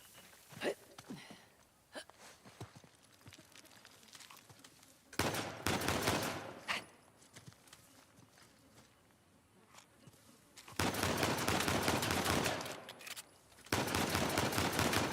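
Video game gunfire plays on a handheld console: scattered single shots first, then several sustained loud bursts of rapid automatic fire, with faint talk between the volleys.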